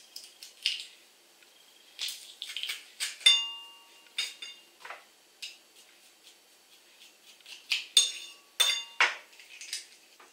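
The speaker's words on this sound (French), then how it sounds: "Maintenant, je vais écraser les gousses d'ail." Sharp metallic clicks and crunches come in irregular bursts as garlic cloves are crushed in a kitchen, close up, with quiet pauses between.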